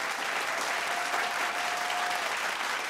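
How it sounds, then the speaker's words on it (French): A steady wash of audience applause fills a live show, dense continuous clapping from a crowd at moderate distance with no break. "applaudissez-le comme ça se doit"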